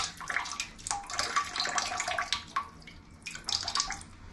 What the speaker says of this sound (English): So hopefully I can just tip whatever water's left in there out.